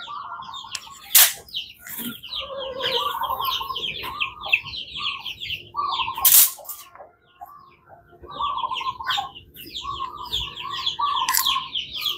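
Rooster on a coconut-palm farm at dawn, calling repeatedly over continuous chirps and clucks from other birds, with a few sharp loud bursts breaking the steady background.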